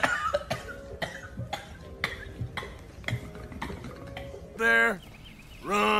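Raspy old man coughing in a string of short hacking bursts in Red Dead Redemption 2, followed by two longer wheezing, throaty fits near the end, heard up close.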